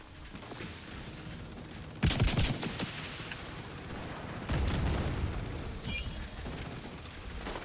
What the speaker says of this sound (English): Multi-missile launcher, pretty good against warhounds.